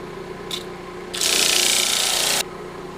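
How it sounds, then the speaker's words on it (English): A brief scrape, then a steady, loud abrasive rasp of sandpaper worked over a segmented wood sculpture for about a second, stopping abruptly. "time to sand the other half"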